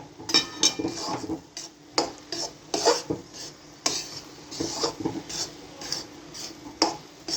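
A spoon scraping and stirring a thick flour and ghee mixture for mohanthal in a metal pan, repeated uneven clinks and scrapes at close range over a faint sizzle.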